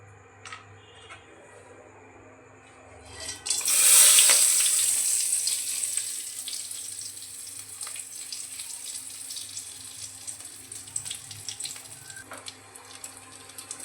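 Whole garam masala, bay leaves and cumin seeds hitting hot oil in a kadai, a sudden loud sizzle that swells then settles into a steady crackling hiss with scattered pops, no voices over it.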